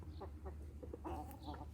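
Hens in a sanctuary enclosure shared with ducks and a peacock give short, scattered clucks over a steady low background hum, faint and fairly close, with no talking.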